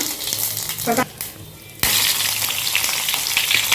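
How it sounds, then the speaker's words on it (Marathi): Oil heats in a hot metal pot for tempering, giving a bright, dense sizzle that dips briefly and then surges loudly and stays strong and continuous. "भगून भांड गरम झालेलं आहे ह्याच्यामध्ये तेल घालून घेऊया फोडणीची तयारी करून घेते"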